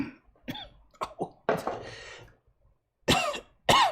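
Several harsh, close coughs in short bursts, separated by brief pauses, followed by a couple of voiced grunts.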